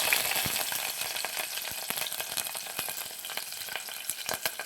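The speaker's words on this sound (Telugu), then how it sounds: "ఆయిల్ హీట్ అయిన తర్వాత దీనిలో పచ్చిమిర్చి, కరివేపాకు వేసుకోవాలి." Green chillies and curry leaves frying in hot oil in a pan, a dense, steady crackle with rapid sharp pops running throughout, close and fairly loud.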